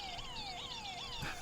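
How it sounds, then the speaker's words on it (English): A car alarm blares in a role-playing video game, its siren sweeping up and down in quick, repeating wails at a steady loudness. "I hope that car alarm goes off soon."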